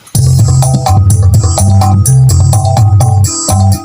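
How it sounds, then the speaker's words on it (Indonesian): A gendang drum pattern plays from music software, a loud, steady, looping rhythm of tuned hand-drum strikes with a clear repeating beat and no voices. "Ya, seperti itu bunyi gendangnya."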